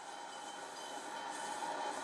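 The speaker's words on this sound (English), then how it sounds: "The first suburban train going through at night time on the Midland line" A suburban passenger train rolls past at night on the Midland line, a steady, fairly distant rumble and rail hiss that swells slightly toward the end with no voices.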